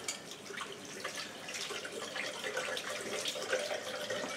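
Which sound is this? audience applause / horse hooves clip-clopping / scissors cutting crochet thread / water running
water running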